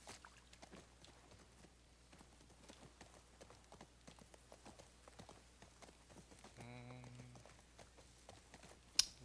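Hooves clip-clop at a steady walking pace while a horse is ridden in The Last of Us Part II, soft and fairly distant under light rain, with a brief mechanical rattle near the end.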